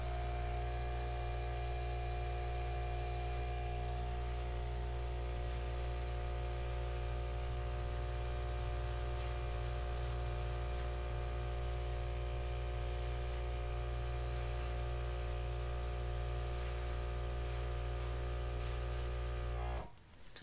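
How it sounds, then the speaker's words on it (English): Airbrush spraying acrylic paint for fluid pour art, a steady, close hiss with a constant tonal hum that runs unbroken for about twenty seconds before cutting off abruptly at the end. "So when you're pushing out with an airbrush, go that little extra more to keep that from happening so much."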